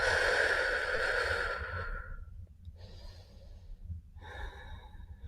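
Slow yoga breathing: a long, airy exhale trails off, then two softer breaths follow after short pauses, close and quiet with no talking.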